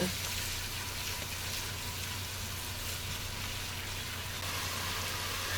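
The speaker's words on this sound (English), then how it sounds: "allow this to saute until it's translucent, tender, and very fragrant" Minced garlic seasoned with salt sautéing in a pot, a soft, continuous frying hiss at low volume throughout.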